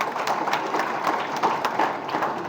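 Dense, steady clapping from an audience at a political rally in Ratnagiri, a continuous loud patter with no break over the whole stretch.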